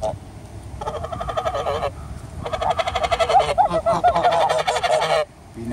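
A flock of geese honks loudly and close by, a dense chattering run of overlapping nasal calls in several bursts with brief pauses between them.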